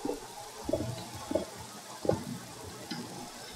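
Water poured over still lava in Minecraft, heard as a few soft, separate splashy pops spaced about a second apart, fairly quiet with no talk.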